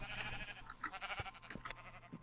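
Sheep in a farming video game bleat in a cluster of wavering, overlapping calls at moderate distance, several voices rising and falling over a low, quiet backdrop.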